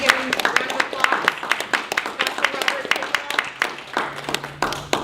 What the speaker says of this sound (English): We're gonna give him a round of applause.